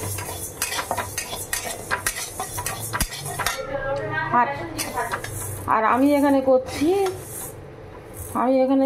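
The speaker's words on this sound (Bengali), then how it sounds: "করছি মুগ ডাল ভাজছি আর কি" Mung dal dry-fries in a pan while a metal spoon clinks and scrapes against it in quick, repeated strokes. Someone talks over much of it.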